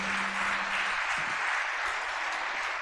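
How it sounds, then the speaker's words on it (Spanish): A church congregation applauds during a sermon, a steady moderate wash of clapping heard alone with no voices over it. "dale un aplauso a Dios."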